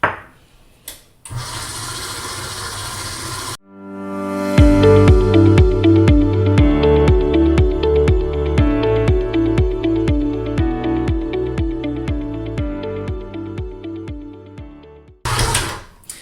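A food processor whirs up and then pulses repeatedly in short, rhythmic bursts, mixing shortcrust pastry dough in its bowl, loud and close, with a brief motor run before and after.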